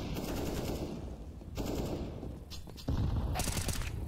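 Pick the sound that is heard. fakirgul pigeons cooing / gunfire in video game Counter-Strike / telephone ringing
gunfire in video game Counter-Strike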